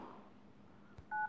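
A single short phone keypad tone beeps near the end after a quiet moment and a faint tap, while dialing on a phone's Google Dialer.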